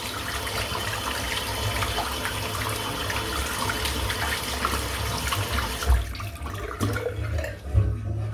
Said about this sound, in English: I'll rinse the soap out